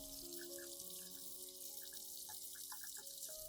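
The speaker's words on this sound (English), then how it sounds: "I will wash the potato peel thoroughly to remove soil and impurities attached outside before using it." Tap water runs steadily into a sink as potato peel is rinsed under it to wash off soil, a continuous close splashing hiss with no talking.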